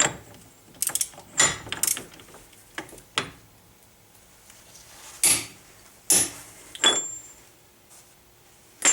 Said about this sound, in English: I went ahead and set my 1/2-inch torque wrench as high as it would go, which is 150 foot-pounds.